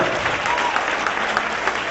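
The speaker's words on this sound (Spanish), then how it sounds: "El que lo crea, que le dé un fuerte aplauso al Rey de Gloria." A church congregation claps steadily and loudly through the whole stretch, dense even applause with a faint murmur of voices mixed in.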